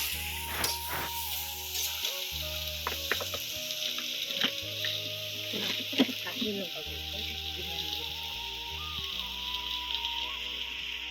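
Dried fish fries in a pan with chilli powder, green chilli and garlic paste, giving a constant moderate sizzle broken by a few stirring clicks, while faint background tones and hum run underneath.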